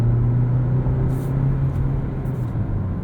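A 2020 Hyundai Ioniq Limited plug-in hybrid pulls away from a stoplight in sport mode, a steady loud engine and road rumble filling the cabin with no talk.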